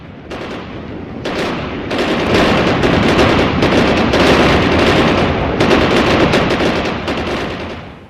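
Sustained bursts of armor-piercing 23mm cannon fire, dug-in guns hammering in dense overlapping volleys that build and hold loud throughout, with heavy rapid reports and no speech.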